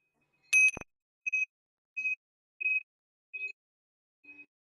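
Tingsha bells struck in a quiet room: one bright, loud opening chime, then five clear ringing tones at roughly even intervals, each fading a little softer than the last.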